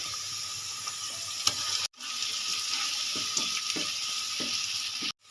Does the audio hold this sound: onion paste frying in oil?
yes